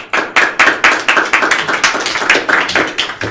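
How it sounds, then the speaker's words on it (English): A small audience at a speaker-series talk claps in a sparse rhythm of distinct, close hand claps rather than a dense roar, alone with no voices. "With a round of applause for Michelle for the introduction"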